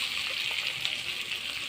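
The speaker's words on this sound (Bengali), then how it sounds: "এখন আমি জল দিয়ে দেব।" Hot water pours steadily into a pan of cooking duck meat, giving a continuous bright, rushing gush close by with no voices.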